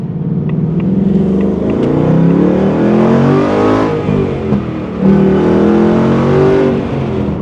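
A Ford Mustang in track mode rumbles loudly and continuously from close by, its engine note surging and dipping through revs with a deep throaty drone.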